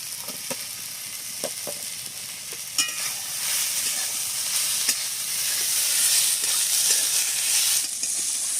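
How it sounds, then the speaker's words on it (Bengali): Ridge gourd pieces fry in a pan with turmeric: a steady, bright sizzle runs throughout, broken by occasional soft scrapes and taps of stirring, close and fairly loud. "চিচিঙ্গাটা আমার বেশ ভাজা ভাজা হয়ে গেছে। এবারে দিয়ে দেবো হলুদ গুঁড়ো।"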